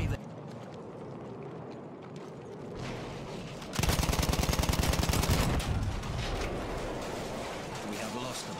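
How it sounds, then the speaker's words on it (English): Machine-gun fire in the Battlefield 1 video game, with a loud, dense rapid burst in the middle and lighter battle noise before and after, partly under voices. "Machine gun over there!"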